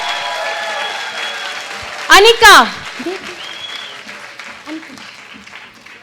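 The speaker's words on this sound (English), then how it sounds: "Loud, loud, loud claps for" Audience clapping at a school annual day, a steady wash of applause beneath an announcer's voice, broken midway by a loud rising whoop or whistle from the crowd.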